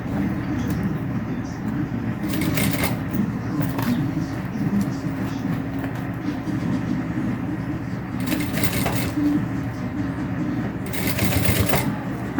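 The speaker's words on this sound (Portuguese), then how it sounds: "Jogo meu vivo pra fora, passo a minha costurinha." A sewing machine runs steady stitching lines, sewing piping onto a crossbody bag, its motor hum continuing under a woman's close-up voice, with short bursts of rattling in between.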